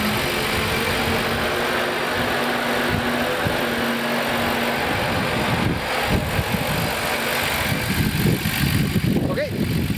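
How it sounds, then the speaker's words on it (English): A 1990 Nissan Skyline GT-R runs at a steady idle with a smooth, even hum. Light clicks and handling noises sit close by, and the sound gets busier near the end. "Engine runs really lovely."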